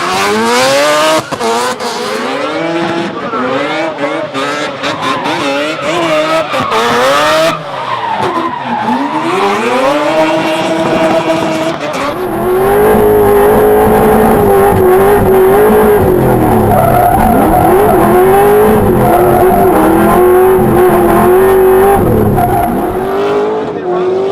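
A Red Bull Mazda RX-7 drift car, running with only one usable gear at a 2014 drifting championship, revs hard and rises and falls in pitch while tyres squeal and skid, loud and near, giving way to a sustained high screech.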